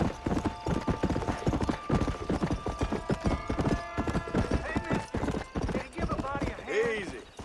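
Horse hooves clip-clop in a rapid, steady rhythm in Red Dead Redemption, close and prominent, ending with a whinny or neigh, while a person talks over the gameplay.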